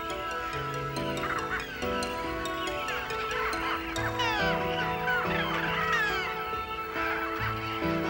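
Roseate terns call during courtship at a Taiwan breeding colony, with many overlapping raspy cries forming a constant busy chorus and some sharper calls standing out near the middle.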